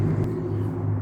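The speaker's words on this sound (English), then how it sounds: "someone's driving a truck that's really loud" A very loud truck rumbles past outdoors, a heavy low engine drone that stays strong and steady for about a second with no one talking over it.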